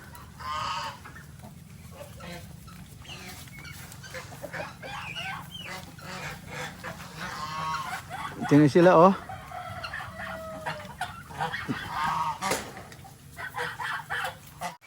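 Chickens cluck and a rooster crows in the background as a person speaks briefly nearby.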